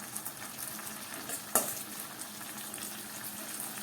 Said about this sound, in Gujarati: લીંબુનો રસ ઉમેર્યા પછી આપણે મિક્સ કરી લઈએ